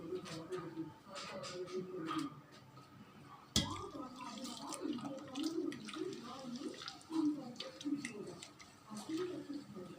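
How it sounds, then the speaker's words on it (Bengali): Lukewarm water is added a little at a time to rice-flour batter for chitoi pitha, giving faint splashing and dripping beneath steady talking. "এখন আর একটু পানি অ্যাড করবো এখানে আমি।"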